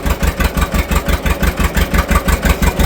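A 1940 John Deere BO tractor, started for the first time in about a year, idles with a loud, steady, even putt-putt pulse close by.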